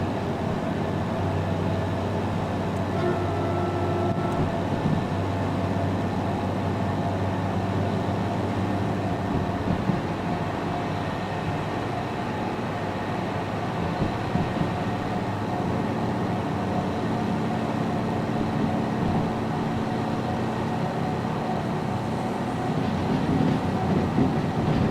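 A locomotive in a video game rumbles steadily for the whole stretch, a continuous low mechanical drone with rail-like noise that stays even in level and carries no speech.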